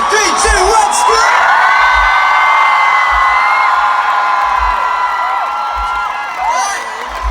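A large concert crowd at a show in Denmark screams and whoops loudly and continuously, a dense sustained roar of many voices with individual shrieks and whistles rising above it.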